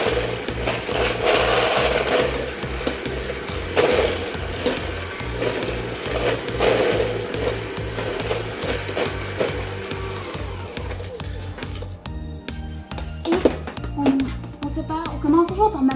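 An electric mixer churns Christmas biscuit ingredients in a bowl with a steady, rhythmic mechanical whir, ramping in strength over time and continuing alone without talk.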